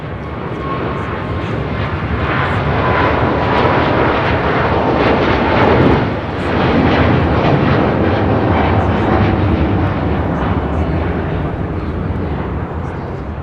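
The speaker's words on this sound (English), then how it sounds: "That is Cathay Pacific 885 taking off to Hong Kong on a 777-300ER" A Cathay Pacific Boeing 777-300ER heavy jet departs Los Angeles International Airport, a powerful sustained engine roar with crackling rumble that swells and stays loud for the whole stretch.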